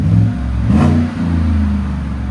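A 2018 Chevy Tahoe with a 6.2L V8 and an 18-inch Magnaflow muffler, its exhaust burbling at idle, blipped up into a short throaty rev, then settling back to a deep rumble, heard close.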